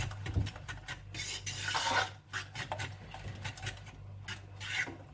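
Beaten eggs for a cheese omelette are mixed in a bowl, giving close, rapid rubbing and scraping strokes that rise and fall without any talking.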